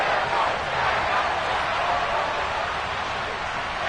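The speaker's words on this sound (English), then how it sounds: "How about some applause for the defense there?" Stadium crowd at a football game, a dense continuous roar of applause and cheering that stays loud and steady throughout, with no individual voices standing out.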